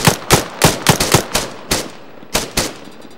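Gunfire in the video game Arma 3 battle royale: a rapid burst of loud, sharp shots in an uneven rhythm, about ten reports with a short pause before the last few, with no talk.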